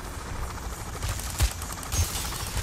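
Dense gunfire in Payday: The Heist rattles continuously in a noisy firefight, with heavier shot thumps near the middle and end standing out over the steady din.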